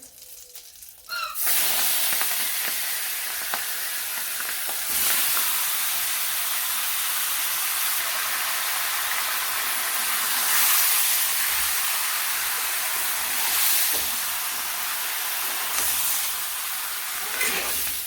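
Meat drops into a hot pan with garlic, onion and green chili paste and bursts into a loud sizzle, then keeps up a steady, close frying hiss that swells slightly now and then.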